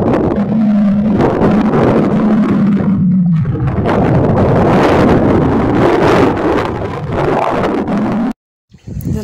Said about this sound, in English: There's a bit of a wind blowing